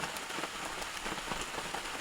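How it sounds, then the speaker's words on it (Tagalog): Heavy rain pours down on a farm, a dense, even patter of drops striking surfaces close by, with no voices. "yung kusog dyan ang ulan guys"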